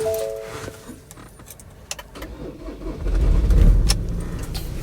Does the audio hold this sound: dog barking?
no